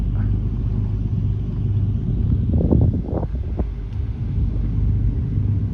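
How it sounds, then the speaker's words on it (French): A ferry passing close by on the water at dusk, heard as a low, steady engine rumble with wind buffeting the microphone and a brief swell of water noise midway. "C'est le bruit du bac qui passe tout près."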